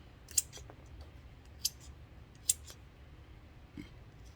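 Leather-cutting scissors snip in a quiet workshop, three sharp close clicks spaced out over a few seconds, with a faint softer one near the end.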